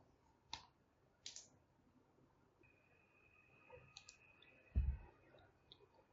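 A few faint, sharp mouse clicks, widely spaced, while activating a WordPress plugin, with one soft low thump near the end and no talking.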